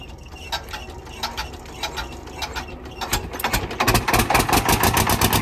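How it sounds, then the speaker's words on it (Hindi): Diesel generator with a 10-litre tank cranking and starting, its rough mechanical clatter turning into a louder, steady rhythmic idle chugging close by with no one talking. "ये लो भाई, हो गया जनरेटर स्टार्ट।"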